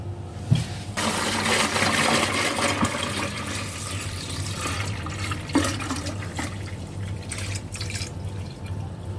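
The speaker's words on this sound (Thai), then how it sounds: "เราจะเทน้ำที่เราต้มลูกอมโอเร่ลงถังหมักนะ" Boiled Oreo candy water, made for strawberry Oreo wine, is poured into a fermentation tank: a steady, close splashing and trickling of liquid that runs continuously after a brief start, with occasional drips.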